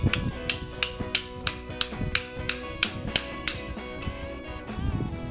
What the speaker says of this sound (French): un petit marteau adéquat